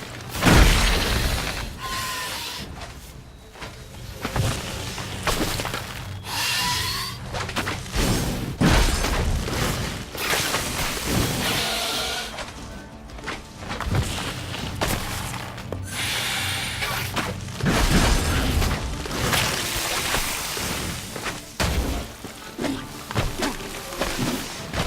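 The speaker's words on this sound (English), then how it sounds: "I always forget about the explosion" A Witcher 3 Blood and Wine fight erupts in a dense, continuous wash of crashing, shattering blasts and booming impacts, with loud bursts over game noise and no pause.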